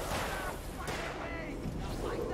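Gunfire rings out in the Alan Wake video game, several sharp shots cracking over a loud, dense bed of combat noise while players talk over the action.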